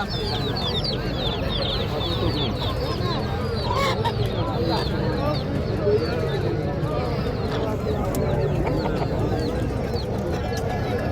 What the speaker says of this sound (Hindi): इसमें सारे मुर्गे मुर्गियाँ, ये देखें बच्चों वाली मुर्गी, ये देखें बतखें